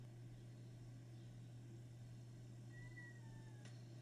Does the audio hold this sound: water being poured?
no